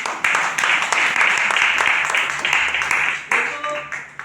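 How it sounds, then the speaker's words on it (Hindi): Audience applause at a wellness company gathering: a dense, sustained crowd of clapping hands filling the whole stretch, with a few sharper bursts and a slight thinning toward the end. "बस मैं चाहता हूँ उन सभी के लिए एक जोरदार ताली हो जाए"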